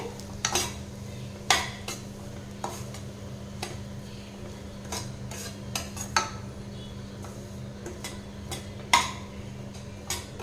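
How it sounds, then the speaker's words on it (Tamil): Semolina is stirred into sautéed carrot and cabbage in a pan, a spoon scraping and clicking against the metal in sparse, irregular strokes over a soft background sizzle. "இந்த டைமில் வந்து நம்ம எடுத்து வச்சுருக்கிற ரவையை சேர்த்திக்கலாம் சேர்த்திட்டு நல்லா கலந்துக்கலாங்க"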